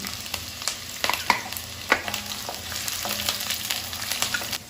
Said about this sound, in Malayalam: അതുകൊണ്ട് ഒരല്പം ഉള്ളി ഇട്ടിട്ട് പച്ചമുളക് ഇടാം